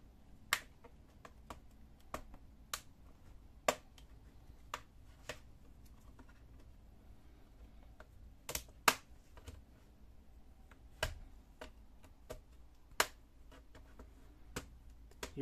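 A sharp tool pries at the plastic case of an ASUS X401U laptop, giving sharp, isolated clicks and snaps at irregular intervals, close and quiet with near silence in between.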